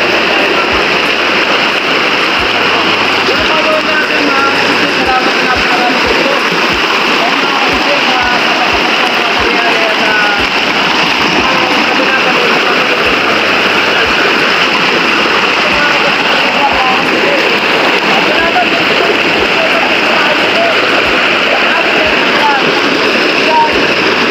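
A river flowing, heard as a loud, steady rush of water that fills the whole stretch without pause, with low thuds now and then underneath.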